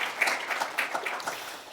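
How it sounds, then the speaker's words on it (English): An audience applauds at a talk on Africa's energy transition, a brief burst of dense clapping that holds steady throughout. "Let's give him a round of applause."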